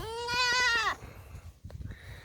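A goat bleats on a farm with a loud, wavering cry lasting about a second, followed by quieter rustling and background farm noise.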